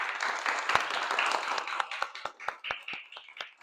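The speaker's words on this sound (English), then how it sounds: "Let's give them an applause." Audience applauding a panel at a science event on antimicrobial resistance: dense clapping from a modest crowd that thins into slower, scattered individual claps as it winds down.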